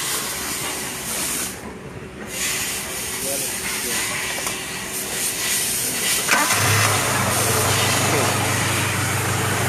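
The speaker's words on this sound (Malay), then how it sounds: "Bila enjin dihidupkan" A car engine with an overheating problem cranks and catches, settling into a low rumbling idle beneath hissing noise and someone talking.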